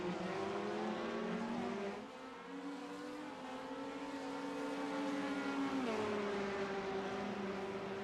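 Porsche race cars at Sonoma Raceway heard from a distance, a continuous engine drone whose pitch rises and falls as the cars work through a turn, faint and steady with no voices.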